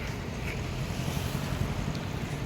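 River water from the Arjuna river, swollen by rain upstream, pours steadily into Mukteshwar Dam with a continuous broad rushing roar, close and even throughout with no voices.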